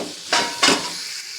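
Spices for cashew matar masala fry in a pan, a steady soft sizzle broken by two brief louder scraping stirs, close and with no voices.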